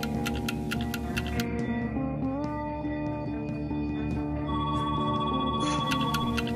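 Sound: telephone ringing

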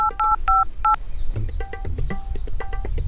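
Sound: telephone dialing tones

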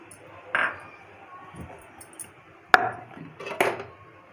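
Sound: lid placed on pot of egg dum biryani

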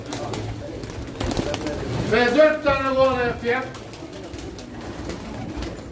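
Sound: pigeons cooing at a pigeon auction

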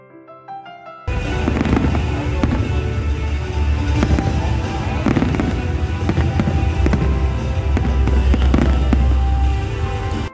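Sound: fireworks display exploding in the sky

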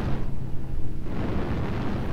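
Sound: artillery strike explosions in a video game

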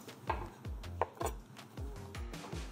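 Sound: slicing fresh shiitake mushrooms with a knife

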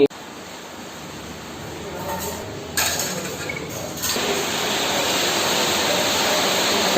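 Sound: heavy rain

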